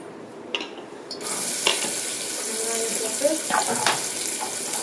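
A close, continuous sizzle of something sautéing in an oiled pan with cardamom, starting abruptly and holding steady, with occasional scrapes and clinks of the stirring spoon.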